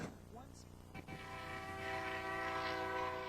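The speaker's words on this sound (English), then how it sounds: "The train you're looking at now has been in full emergency brake since the moment it reached the crossing" A freight train in full emergency braking at a road crossing rumbles loudly and steadily with a sustained metallic squeal, building slightly in volume, with a brief clunk early on and no voices.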